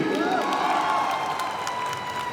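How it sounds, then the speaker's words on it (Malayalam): Audience in a cinema hall applauding and cheering, a dense steady wash of clapping with shouts and whoops, loud and continuous throughout. "എന്നാ ഒരു വലിയ കൈയടി കൊടുത്ത ഈ പുള്ളിക്ക്"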